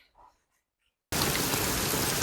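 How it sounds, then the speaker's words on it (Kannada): Heavy rain near Karwar railway station in coastal Karnataka, a dense, steady hiss that bursts in abruptly after a near-silent moment with a faint murmur, then holds loud and even to the end. "ಮಳೆ ನೋಡ್ರಿ ಹೆಂಗ್ ಹೊಂಟದ"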